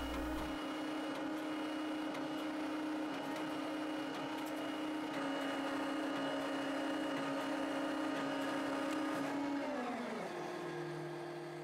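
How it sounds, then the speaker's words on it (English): Grove TMS 9000E truck crane running its auto-level outrigger hydraulics to raise all tires off the ground: a loud, steady close-up hydraulic whine and engine drone that holds for about ten seconds, then drops in pitch and eases off near the end, with no talking. "Continue to hold the switches until all tires are raised off of the ground."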